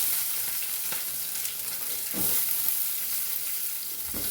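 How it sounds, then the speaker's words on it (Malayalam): Kashmiri chillies, green chillies and onion frying in hot coconut oil while making Andhra-style tomato thokku, a steady loud sizzle with occasional stirring scrapes. "വെളിച്ചെണ്ണ ഒഴിച്ചു. അതിലേക്ക് കാശ്മീർ ചില്ലി പിന്നെ പച്ചമുളക് ഇട്ടു."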